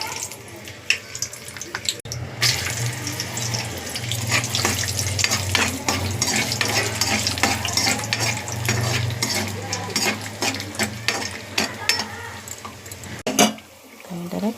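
Cashews fry in hot oil in a kitchen pan with a continuous loud sizzle, broken by stirring clatter and a sharp knock near the end.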